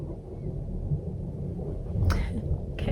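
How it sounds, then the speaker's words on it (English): Thunderstorm outside, a continuous low rumble of thunder and rain filling the background, with a couple of brief sharper cracks near the end. "let's listen to it storm some more."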